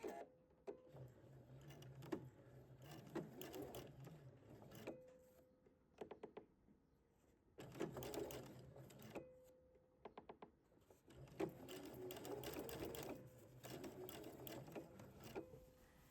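Sewing machine stitching and backstitching an invisible zipper, several quiet bursts of rapid needle whirring separated by pauses, with small mechanical clicks between runs, close and alone.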